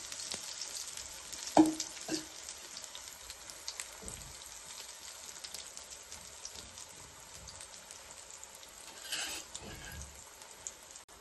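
Brinjal slices hissing and sizzling in hot oil on a small tawa for a Karnataka-style brinjal tawa fry, a steady faint crackle with a few sharper pops and clatters, no talking.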